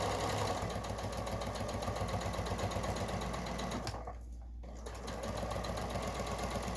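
A sewing machine stitches a fabric face mask, running in a steady rapid whir that pauses briefly and then resumes at full speed.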